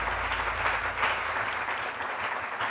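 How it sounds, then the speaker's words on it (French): A studio audience at a French midday TV talk show applauds steadily, a dense even clapping that fills the whole moment without pause. "Je demande au public d'applaudir cela."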